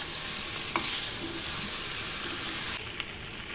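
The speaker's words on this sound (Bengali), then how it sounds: "আলু ভাজা দিয়েও ভালো করে নেড়ে নেবো।" Fried potatoes being stirred into mutton in an oily pan give a steady close sizzle, with a couple of brief scraping knocks from the spatula and no talking.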